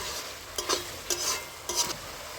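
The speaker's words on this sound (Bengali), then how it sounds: "তো মাংসটা আমি দিয়ে দিচ্ছি ওরে ভালো করে মাংসটা দিয়ে ভালো করে কষে নিতে হবে" Chicken meat stirred into hot spiced oil in a pan, a soft continuous sizzle broken by three louder scraping stirs spaced evenly apart, close and clear with no talking.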